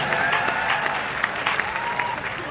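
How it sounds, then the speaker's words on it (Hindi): An audience at a Hindi comedy poetry show in Indore claps in steady, full applause, a dense crowd patter that stays even and fairly loud throughout. "तो आप ताली वाली बजाओ,"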